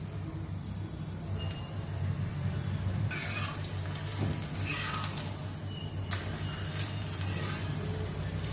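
Dosa batter spread thin on a pan, sizzling and frying in oil for an instant dosa, a steady soft crackling hiss that runs throughout, with a few brighter sputtering bursts.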